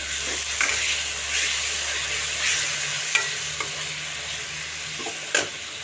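Garlic ginger paste sizzles and crackles in a hot pan while a spoon scrapes and stirs, with a few sharp clinks against the metal.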